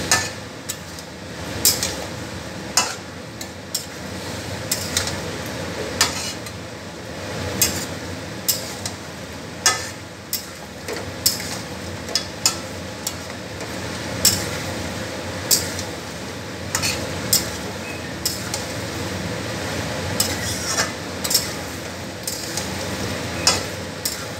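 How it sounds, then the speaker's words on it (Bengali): Mutton is cooked down in a pan for kasha mutton, a Bengali braised dish, with a steady sizzle and sharp, regular scrapes and clinks of a spatula against the pan as the meat is stirred. "এবারে মাটনটাকে খুব ভালো করে কষাবো।"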